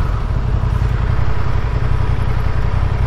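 A motorcycle engine, a Triumph Tiger 800 or a Honda, idles close by in a steady, slightly clattering rumble that holds even throughout.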